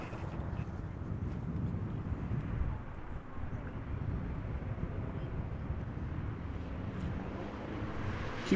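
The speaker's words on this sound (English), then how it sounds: "Next up is going to be Tarom, arriving from Bucharest today, being flown in the 737-800 flight 361." A Tarom Boeing 737-800 arriving from Bucharest at Amsterdam Schiphol Airport gives off a steady, low jet rumble, moderately distant and fairly quiet, holding level with slight swells of wind-like noise.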